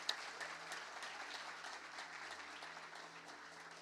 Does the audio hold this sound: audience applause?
yes